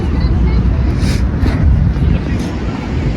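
Steady low wind roar buffets the microphone throughout while cycling into a headwind, a constant rushing noise with no speech.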